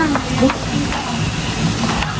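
Food sizzling and crackling in a pan, a steady close frying hiss with occasional stirring scrapes.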